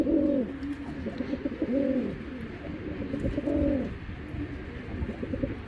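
Giribaz pigeons coo in soft, repeated rolling phrases, several overlapping calls that swell and fade close by, with no talking.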